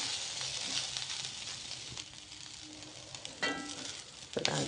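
Grated coconut is stirred into upma as it fries with onions in oil, giving a continuous soft sizzle with intermittent scraping and stirring strokes of a spoon, close by and with no talking.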